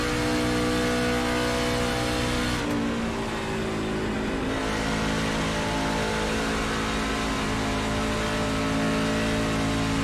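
A loud, continuous race truck engine roar with steady harmonic whine as it runs at speed on the Indianapolis Motor Speedway, pitch shifting slightly midway, no voices.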